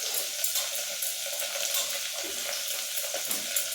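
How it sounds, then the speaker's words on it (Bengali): Ginger sautéing in a hot pan for vegetarian khichuri, a steady close sizzle and crackle of frying with occasional stirring scrapes, continuous and fairly loud with no talking. "আমি একটু আদা কষে দিয়ে দিচ্ছি"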